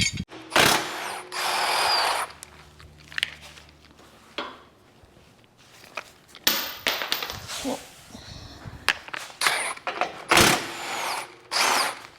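Suspension bolts loosened with a ratchet while a Westcott Designs suspension kit is installed: bursts of ratchet clicking and metallic clanks, some long and steady, others short, close and fairly loud with no talking.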